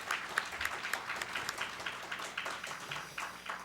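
Audience at the founding general assembly of a South Jeolla residents' association applauds to welcome a National Assembly member, a steady, fairly faint patter of many hands clapping for several seconds.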